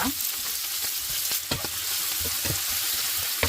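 Onion sizzles steadily in a hot pan while fried rice is being made, a constant bright hiss broken by soft scrapes and clacks of stirring, close up with no talking.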